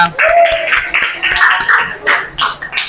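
Grade 8 students in a junior high classroom clap together in a quick, uneven burst of hand claps, mixed with children's excited voices and cheering for a few seconds.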